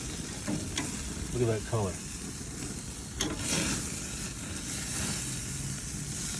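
Country ribs and boneless chicken breasts sizzle steadily on a grill just after being flipped, a constant hiss with a few brief pops, while a voice talks over it near the start.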